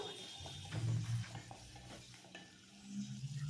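Tomatoes and onions are sautéed in a pan, with a continuous soft sizzle and a spatula stirring and scraping through the mixture. No one talks.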